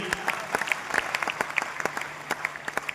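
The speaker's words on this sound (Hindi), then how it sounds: "तो उनके लिए एक बार जोरदार ताली।" Steady applause from an audience at a company presentation fills the whole stretch, with a dense patter of individual claps close by.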